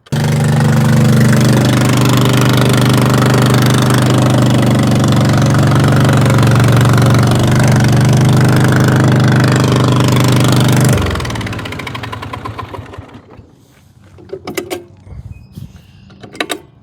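A Cub Cadet lawn tractor engine runs loud and close with a steady drone, then cuts off abruptly and is followed by faint clicks and rattles.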